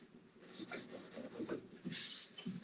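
Quiet, scratchy back-and-forth strokes of hand scuff-sanding a wooden bedside table, close up and fairly rhythmic.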